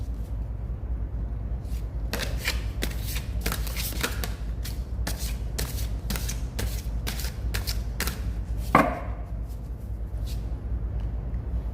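Green Witch oracle cards are shuffled close by in a quick series of crisp riffling snaps, a dozen or so sharp bursts in an uneven rhythm over a quiet background, with no talking.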